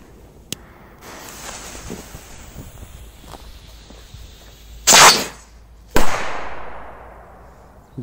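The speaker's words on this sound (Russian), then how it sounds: "Вот такие взрывы получились." Two loud firecracker bangs go off outdoors in ice about a second apart, the second echoing away, after a stretch of windy rustling and small pops.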